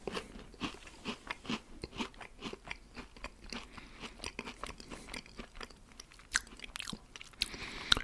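Hard, crunchy cinnamon Danish cookies being bitten and chewed close up, with a rapid, uneven run of crisp crunches and crackles throughout and no talking.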